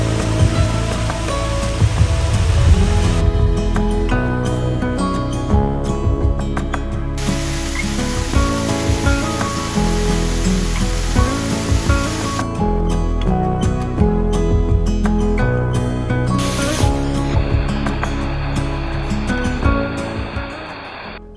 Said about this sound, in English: I was excited to see the 3 waterfalls made from old phosphate mining.